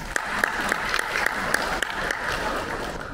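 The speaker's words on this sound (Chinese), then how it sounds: "让我们掌声有请潘汉荣主任为本次活动致辞" Audience applause welcoming a speaker at an education seminar in Guangzhou, a dense, steady wash of clapping with a few sharper claps standing out, close and continuous throughout.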